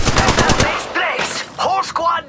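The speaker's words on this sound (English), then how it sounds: "Shooting!" Rapid bursts of gunfire in the Apex Legends Mobile battle royale, a quick string of close, sharp shots followed by a few scattered weapon and effect sounds, all brief and loud.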